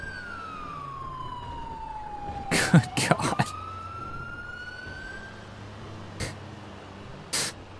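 Police sirens wail in a video game, a single tone sweeping down then up through the clip while brief loud bursts of other noise cut in and a voice talks over it.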